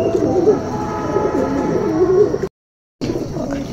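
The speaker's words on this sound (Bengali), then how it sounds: "আজকে আমি আমার পায়রা দাঁড় ছেড়ে দিয়েছি" Pigeons released from their perch coo steadily and loudly while being fed grain, overlapping throaty calls up close, broken by a short gap of silence before the cooing resumes.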